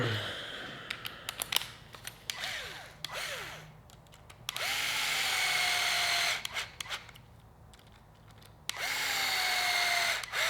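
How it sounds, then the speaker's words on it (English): Power driver running 3x16 screws into a Team Associated B7 RC car, two loud sustained whirring runs of several seconds with rising pitch, separated by close clicks and parts handling. "Get your 3x16s. You can screw in 2 of them."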